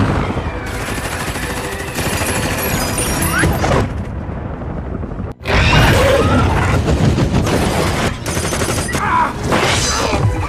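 Loud bursts of film gunfire as soldiers fire on a stack of explosive crates, with dense automatic volleys, a brief drop to near silence, then renewed heavy shooting and booming impacts.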